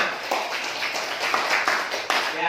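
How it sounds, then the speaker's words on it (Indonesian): Seventh-grade pupils in a classroom clap in a short sequence of sharp, evenly spaced bursts, moderately loud, with faint voices blending in. "bagus sekali. Tepuk tangan."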